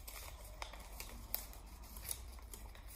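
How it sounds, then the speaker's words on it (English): Scissors snipping off the small end bits of a craft bracelet, a few sharp, close clicks spaced irregularly over steady low background noise, with no talking. "Then you can take your scissors and just cut off the wee end bits."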